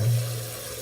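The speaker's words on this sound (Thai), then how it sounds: "ต้องเปิดวาล์วก่อนนะ น้ำจะไหล" Water running from a bathroom sink faucet after its valve is opened during a leak repair, a faint steady hiss of flowing water that carries on evenly.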